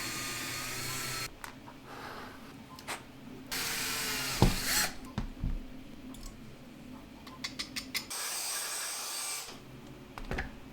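Drilling and tapping a hole in a DIY lamp build to fit a bracket, heard as several bursts of whirring tool noise with ratcheting clicks and small knocks between them, close and fairly quiet.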